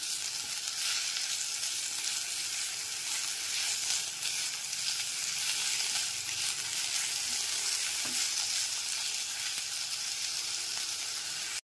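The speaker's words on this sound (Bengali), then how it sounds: "আদা বাটাটা পেঁয়াজের সাথেও খুব ভালো করে কষিয়ে নেব" Ginger paste sautéing with golden fried onions in a pan for a fish-head moong dal: a steady, dense sizzle and crackle that holds evenly throughout, close and fairly loud, with no voices.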